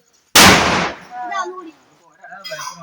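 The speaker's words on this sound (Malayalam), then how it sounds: "പേപ്പർ പടക്കം" A paper firecracker goes off in a single sharp, loud bang at once, then fades as voices talk briefly afterward.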